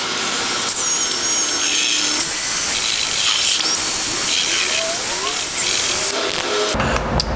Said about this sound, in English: To mix it, we are actually just going to use the drill with the paddle here